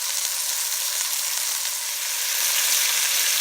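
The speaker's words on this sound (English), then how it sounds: "It's getting a nice sear." Meat for a pot roast sears in a hot pan with a steady, loud, dense sizzle that holds even throughout, with no voices over it.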